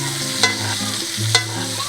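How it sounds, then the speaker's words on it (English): A steak basted with butter in a pan sizzles and crackles steadily and close, with a low hum underneath and two sharp clinks of a spoon against the pan. "now we're gonna put the tongs down, take the spoon, and start basting the steak"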